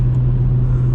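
BMW E46 car driving, heard as a steady, loud low engine drone with constant road rumble throughout, no notable revving and no voices.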